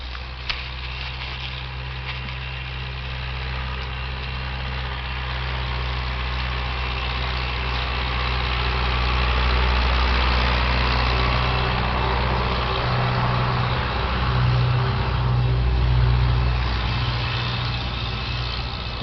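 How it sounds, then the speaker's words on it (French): A tractor engine drones through a rural landscape, a low steady rumble that gradually swells as the machine draws closer and stays loud through the end, with no voices. "Il y a encore un tracteur qui passe."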